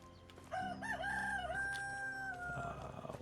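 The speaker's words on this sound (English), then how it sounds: "Alright, here's the chickens." A rooster in a medieval village farmyard in Medieval Dynasty crows loudly and close, one long drawn-out cock-a-doodle-doo, with chickens faintly around it.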